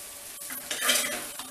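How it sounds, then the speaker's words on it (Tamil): Cooked rice being stirred into brinjal masala in a pan for vangi bath, close spoon scrapes and metallic clinks against the pan over a light sizzle, in short uneven strokes. "கொஞ்சம் கொஞ்சமாக போட்டு கிண்டிக்கோங்க"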